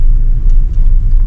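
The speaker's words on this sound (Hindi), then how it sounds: "तो काफ़ी स्लो ट्रैफिक मूविंग है, बड़ा धीरे धीरे चल रहा है।" Cars creep along in a slow-moving traffic jam on a road toward a hilltop temple, a steady low engine rumble close by with no voices.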